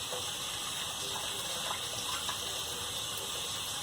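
A kitchen tap runs steadily while hands are washed before making meatballs, giving a continuous close gush of water with no talk.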